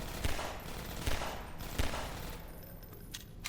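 Gunfire in the first-person shooter Half-Life 2: Episode One, with three sharp, punchy shots spaced roughly evenly apart over a steady in-game ambient hum, with no talking.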